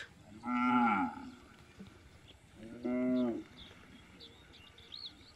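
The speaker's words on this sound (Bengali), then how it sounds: "এই যে গরুগুলা পার হইতেছে, দেখছস?" Cattle wading across the Dhalai river low two long, harmonic moos a couple of seconds apart, with faint bird chirps and a soft outdoor hum between them.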